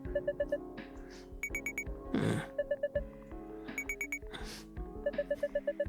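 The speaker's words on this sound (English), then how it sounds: "Check the fire alarm." In the video game Butterfly Soup, a fire alarm rings loudly in rapid bursts of bright, bell-like electronic tones, repeating in a steady pattern with short gaps and a brief noisy swell in between.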